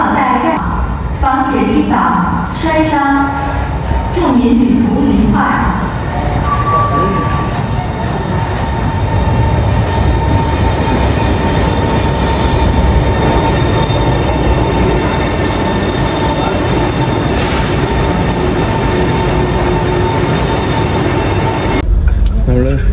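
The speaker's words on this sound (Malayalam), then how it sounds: "അയ്യോ ട്രെയിൻ അവിടെ നിന്ന് എവിടെ നിന്നോ വരുന്നോ എന്ന് തോന്നുന്നു" A train rumbles steadily through the clip, a loud continuous roar with a brief tonal squeal, after voices talking nearby at the start.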